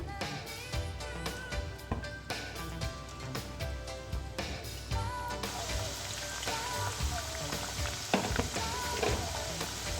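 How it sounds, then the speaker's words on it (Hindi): Tea time snacks frying in hot oil, a dense continuous sizzle and crackle that fills the whole stretch, loud and close with occasional utensil knocks, no voices. "अब यहाँ पर हम अपने टी टाइम स्नैक्स जो है वो फ्राई कर लेते हैं।"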